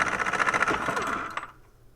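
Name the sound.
pneumatic impact wrench running on low air pressure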